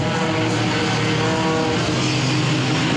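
Four-cylinder race cars roar loudly and continuously around the Lonestar Speedway oval on the opening circuit of their A-main event, a dense engine drone that stays close and steady.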